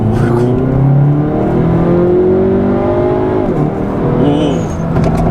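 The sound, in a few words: Hyundai Veloster N DCT accelerating and shifting gears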